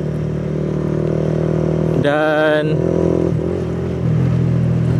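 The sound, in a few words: motorcycle ridden on the clutch alone after its throttle cable snapped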